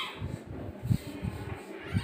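A cat gives a series of short, low, muffled meows, about four in two seconds, fairly close but not loud, with no speech.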